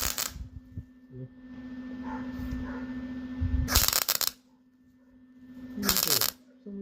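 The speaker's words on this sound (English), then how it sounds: "For some reason my welder gets really chippy like that sometimes" MIG welder on a classic car restoration sputtering and spattering as it welds, with sharp crackling bursts, a long buzzing stretch, then two short loud spits separated by near silence over a steady hum.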